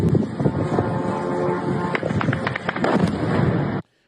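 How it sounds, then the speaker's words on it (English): Recorded drone strike on a Russian building: a dense, continuous ripping crackle of multiple explosives going off in rapid pops, with loud echoing blasts sustained for about four seconds before cutting off abruptly. "the ripping you're hearing, that pop, pop, pop, pop, is multiple explosives going off"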